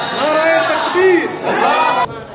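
At a religious gathering, a crowd answers a takbir slogan call with loud, sustained shouts of many voices together, close and filling the space.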